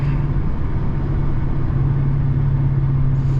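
A catless Pontiac G8 V8 on the highway gives a loud, steady engine drone with a heavy low rumble, close and continuous throughout, with no talk over it.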